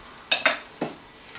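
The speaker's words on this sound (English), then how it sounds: "So we're just going to deglaze," Three sharp sizzling bursts come from a pan of garlic chicken as it is deglazed, each hiss fading quickly between short quiet gaps.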